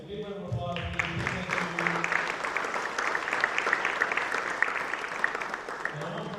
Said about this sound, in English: Once again, for our presenters, once again, big round of applause.